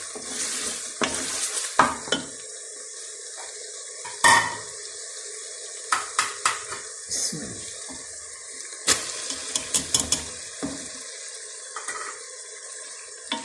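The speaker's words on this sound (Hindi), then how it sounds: "अब मैं कीमा डालने लगी हूँ।" Minced meat tipped into a pan of frying masala with tomato for matar keema, giving a steady close sizzle under repeated sharp scraping and clattering strokes of a spoon against the pan.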